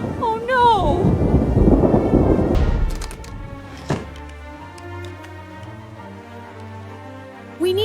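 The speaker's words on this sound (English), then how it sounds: "The storm." Thunderstorm with rain: a loud rumbling roll of thunder for a few seconds fading into quieter steady rain, with a sharp crack near the middle and voices and music around it.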